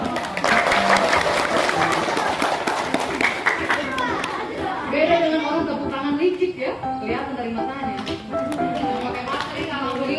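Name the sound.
group clapping hands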